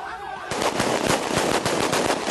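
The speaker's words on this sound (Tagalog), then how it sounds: "Sunod-sunod na putok ng mga baril" Rifles fire in rapid, sustained bursts as rebels shoot in celebration, the regular volley of sharp shots loud and close, with no lull through the clip.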